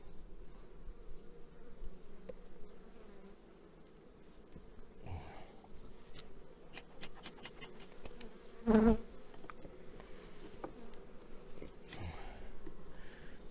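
A dense, steady hum of many Carniolan honey bees buzzing close by in an opened hive during a spring inspection, continuous for the whole stretch, with a brief louder burst near the middle and no talking.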